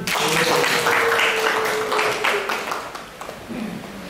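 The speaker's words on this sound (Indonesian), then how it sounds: "Tepuk tangan dulu." Applause from a group fills the room, steady and fairly loud, with some voices mixed in before it tapers off near the end.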